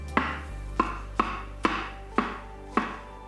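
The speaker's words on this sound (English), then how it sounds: "I'm going to chop these up." Mushrooms, including shiitakes, chopped with a knife on a cutting board: six sharp, close knife strikes at an uneven, unhurried pace over a low steady hum, with no talk.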